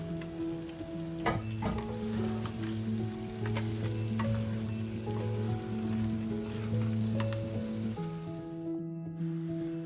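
Crab pieces coated with onion and garlic sizzle in hot oil for a Telugu-style crab curry, a steady, close bubbling crackle that runs unbroken with faint tonal hum beneath.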